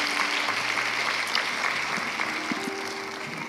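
Audience at a university ceremony applauds in a steady, moderately loud wash of clapping that carries through the whole stretch without a break, with a faint tonal hum underneath and no voices on top.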